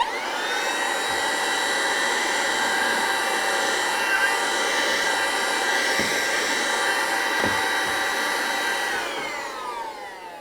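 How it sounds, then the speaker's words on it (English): A small vacuum cleaner runs steadily at close range in a model railway workshop, its high motor whine holding constant with a few bumps and knocks before it starts to spin down at the end. "I thought I'd better get out my little vacuum cleaner"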